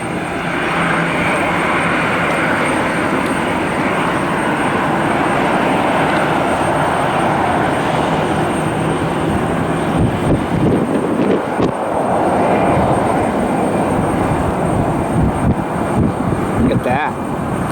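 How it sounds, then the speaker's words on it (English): A TWA special-livery airliner arriving at Cleveland Hopkins in snowy weather: a loud, steady engine roar with a broad rushing drone that holds throughout, with voices talking over it. "I think we have another special livery inbound."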